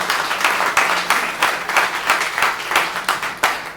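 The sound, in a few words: applause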